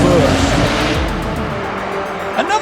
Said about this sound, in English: Downshift from second to first.